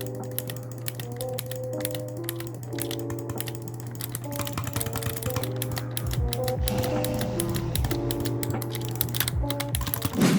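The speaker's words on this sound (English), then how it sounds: "the keyboard, the sound is satisfying in general" Fast, steady clicking of a computer keyboard during Bedwars gameplay, close and crisp, running continuously over a low game hum and soft background tones.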